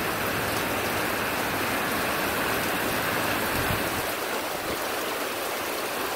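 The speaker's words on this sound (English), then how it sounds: "This is like downpours here. Look how heavy this is." Heavy thunderstorm downpour, a dense, loud, unbroken roar of rain on surfaces that continues without pause for the whole stretch.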